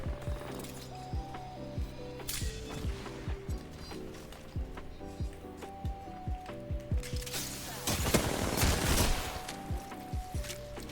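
Rapid bursts of video game gunfire in a shooter match, with sharp repeated shots in short volleys throughout and a denser flurry of fire near the end, loud and close.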